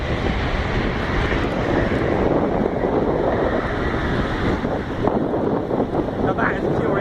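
An Airbus airliner flies at the 2016 Farnborough air show, giving a loud, continuous roaring rumble for the whole stretch, with gusty wind buffeting the microphone.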